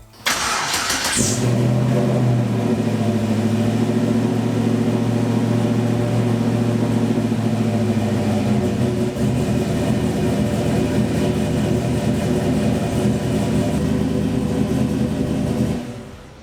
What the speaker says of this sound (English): Keep in mind the car revs a little bit high, 1200 RPM, and we're in the garage still.